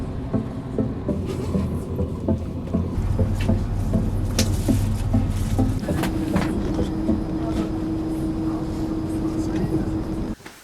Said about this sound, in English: what kind of train is coming